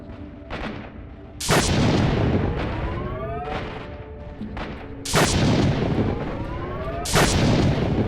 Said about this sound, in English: Description of this gun say that it is noiseless, but it doesn't match the shots in game.